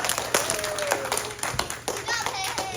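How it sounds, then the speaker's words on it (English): An audience at a children's animal show claps for a volunteer, quick close hand claps mixed with children's voices and chatter throughout. "Everybody get a big round of applause for coming up."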